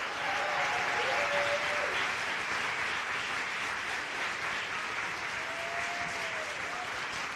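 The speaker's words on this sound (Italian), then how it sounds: "Chiamo qui sul palco Andrea Vlati e facciamogli un grande applauso." A conference audience applauds as a speaker is called onto the stage, a dense steady roar of many hands clapping that holds evenly throughout, with faint murmurs underneath.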